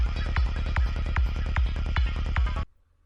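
Percussive forest pluck element in an electronic music track, repeating about every 0.4 seconds as a rhythmic, throbbing pulse over a dense, steady backing that cuts off abruptly near the end.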